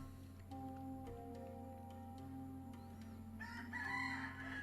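Chickens in the pixel-art city-building game dotAGE, a rooster crow rising near the end over soft clucks and ticking game sounds, faint and distant with a steady background hum.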